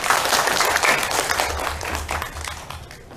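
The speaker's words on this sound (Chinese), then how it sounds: "各位大家掌声鼓励他一下" A seated audience gives brief, steady applause to a hospital director before a kidney-health talk, with many hands clapping together and slowly thinning toward the end.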